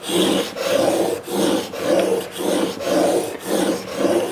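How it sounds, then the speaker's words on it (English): A hand plane blade is rubbed back and forth on an abrasive sharpening surface, producing loud rhythmic rasping strokes, about eight in a steady even cadence, close up with no talking. "I tend to use the abrasive backwards and forwards."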